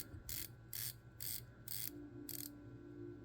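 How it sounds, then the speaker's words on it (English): A watch bezel on a Modtok Kraken build turns with five crisp, evenly spaced ratcheting clicks, close and fairly loud, with nothing else beside them. "As you saw, clickable style bezel."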